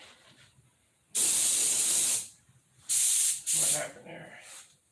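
A paint spray gun blasts a second coat in three loud hissing bursts, one long and two shorter, with quiet gaps and faint background sounds between them.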